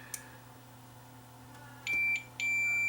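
A multimeter continuity test on the coil of a broken wireless phone charger gives two short, clear electronic beeps, the second one held longer, after faint clicks of the probes.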